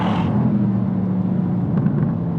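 A Mercedes-AMG GT R Pro sports car drives on a race track, its engine a steady, loud low rumble heard from close by, with a brief higher whir at the start and no talking.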